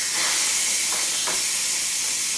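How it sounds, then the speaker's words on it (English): A quick cooker vents steam pressure in a steady, loud, continuous hiss that fills the whole moment, with faint rattling underneath. "it'll release that pressure"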